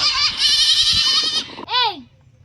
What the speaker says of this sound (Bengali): আরে খেতে ছাগল ঢুকেছে